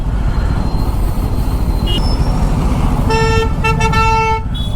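Bajaj Pulsar F 250 motorcycle running in second gear below 2000 RPM, a steady low engine drone throughout with horn-like tones sounding over it in the second half.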